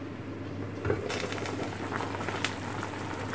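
A pot of chicken wings boiling steadily after about fifteen minutes of cooking, a continuous bubbling churn with small pops, moderately close and heard alone.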